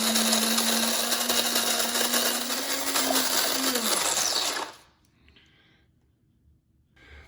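A Cuisinart Supreme Grind burr coffee grinder, set for 12 cups, runs loud and steady for about four and a half seconds, a constant whirring drone, then spins down and stops, leaving near silence.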